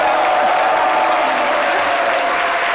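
A television studio audience on a midday talk show applauds with continuous, fairly loud clapping throughout, without talk.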